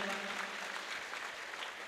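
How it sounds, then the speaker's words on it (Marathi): A gathering at an ashram's anniversary celebration claps together in soft, distant, continuous applause. The sound is faint and evenly spread across the moment. "एकदा टाळी वाजवा या सगळ्यांच्या नावाने"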